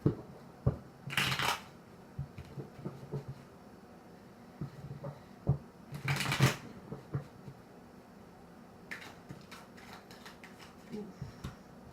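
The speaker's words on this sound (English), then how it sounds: "Let's shuffle here a few times until it feels right." Tarot cards being shuffled in a few quick riffling bursts, separated by softer tapping and handling sounds, close and fairly quiet.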